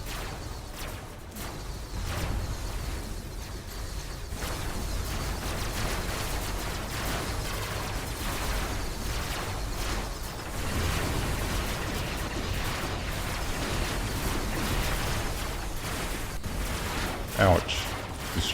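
Tesla weapons attacking in Robocraft: a dense, continuous crackling electric barrage with whooshing bursts and rumbling impacts, loud and sustained throughout, with a sharp burst near the end.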